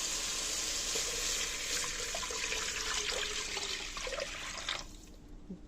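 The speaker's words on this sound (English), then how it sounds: "then I'm going to add water" Water streams steadily into a cooking pot of sautéed onions for wild rice for several seconds, a close rushing pour that cuts off near the end.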